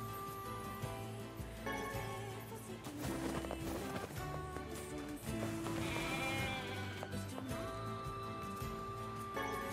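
Sheep bleat in the NieR Replicant video game, sounding over a steady layer of game music and effects that runs throughout at an even, moderate level.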